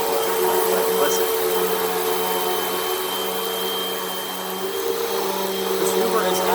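Hoover WindTunnel vacuum running over a messy rug, a continuous loud motor drone with a dip in level midway before picking back up.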